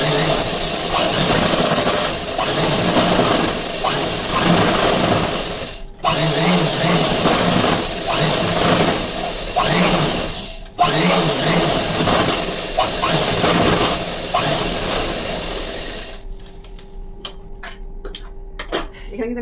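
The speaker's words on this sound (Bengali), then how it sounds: "চলো সেলাইটা দিয়ে দিচ্ছি আমি" A sewing machine stitches fabric for a puff sleeve in a steady, loud mechanical whir, running in long stretches broken by two brief pauses and stopping near the end, with a voice talking over it.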